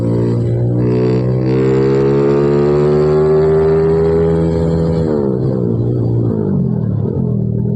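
Honda Supra X 155cc motorcycle on a test ride, its engine droning steadily under partial throttle with rising then easing pitch, close and loud throughout with no talking.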